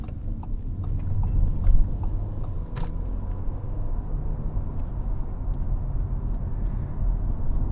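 Interior of an Audi A4 45 TFSI sedan driving on back roads, a steady low engine and road rumble with faint clicks and ticks, no talking.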